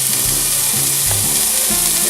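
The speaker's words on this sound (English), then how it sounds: "Can you hear that little sizzle?" Steady, loud sizzling of hot oil frying onions in a pan for chili, a constant crackling hiss close to the microphone.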